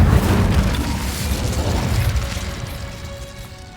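A fire spell cast in Hogwarts Legacy bursts out as a loud booming whoosh at the start, its roar and crackle slowly fading over several seconds.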